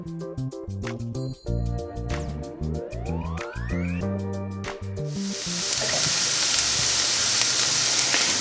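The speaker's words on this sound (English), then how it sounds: "I'm heating up some coconut oil and I'm gonna add 3 chopped onions" Music plays at first, then three chopped onions go into hot coconut oil and a loud, steady sizzle takes over and holds to the end.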